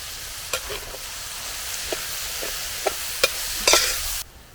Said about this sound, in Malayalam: സവാള ഇച്ചിരി മഞ്ഞപ്പൊടി ഇട്ടേക്കാം പെട്ടെന്ന് വാടാൻ വേണ്ടിയാണ് ഉപ്പിട്ടത്